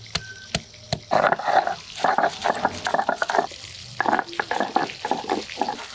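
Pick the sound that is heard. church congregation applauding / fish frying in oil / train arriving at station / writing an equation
fish frying in oil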